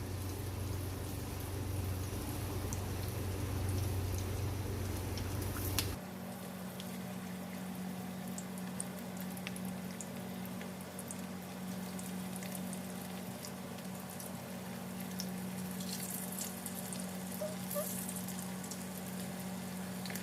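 Chicken lollipops fry in hot oil, a steady close crackle and sizzle that continues throughout, shifting in tone partway as the pieces are moved around in the pan.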